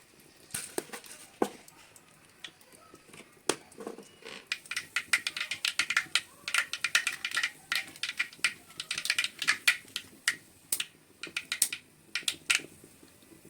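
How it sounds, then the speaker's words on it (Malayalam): Mustard seeds popping in heated cooking oil in a pan, a scatter of sharp crackling pops that begins sparse, then quickens into a busy, irregular patter lasting over ten seconds, fairly close and with no talk. "അപ്പോൾ കടുക് പൊട്ടി"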